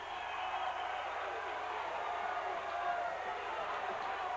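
Steady crowd noise from a high school basketball game between the Red Lake Warriors and Cherry Tigers, a continuous roar of cheers filling the gym, heard faintly under a commentator talking.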